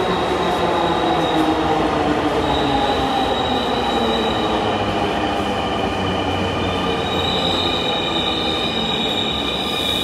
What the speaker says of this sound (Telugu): రైలు రాగానే మనం ఎక్కేసి వెళ్ళిపోదాం